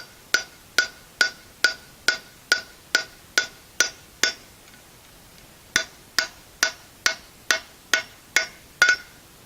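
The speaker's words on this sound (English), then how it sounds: "See, there's that hollow sound as you're tapping it in." Steady metallic taps from a hammer driving a bearing race into a trailer wheel hub, about two per second, with a short pause midway before the tapping resumes.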